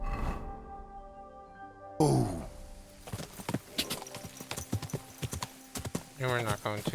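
A horse in the medieval game Kingdom Come: Deliverance II trots along a path, its hooves clip-clopping in a quick, steady rhythm, close and fairly loud. A voice calls out over the hoofbeats.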